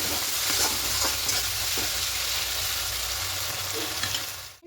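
Bean mixture with a paste being stirred and fried in a pan, a dense, steady close sizzle with repeated scraping strokes of the spatula throughout.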